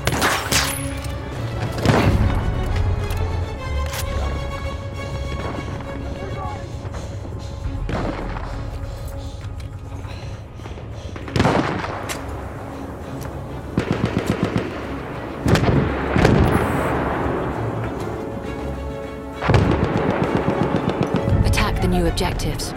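An enemy artillery barrage rumbles through a Battlefield 1 battle, heavy booms and thuds mixed with constant machine-gun and rifle fire, with game voice lines over the dense, continuous combat noise.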